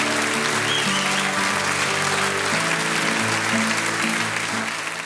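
Studio audience applause for a guest's entrance on a Pakistani talk show, a dense steady wash of clapping lasting several seconds, with background music tones running beneath it.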